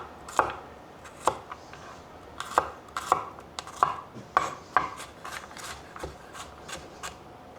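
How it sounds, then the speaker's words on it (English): Knife strokes trim the ends off garlic cloves on a cutting board, a series of about a dozen crisp close chops at an uneven pace, with no talk. "And the very last thing are some garlic cloves."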